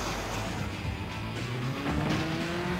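A race car engine drones steadily, its pitch climbing slightly toward the end, continuous and fairly close.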